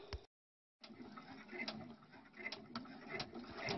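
Embroidery machine stitching a design onto toilet tissue, a steady rapid mechanical clatter running close and continuous after a brief pause.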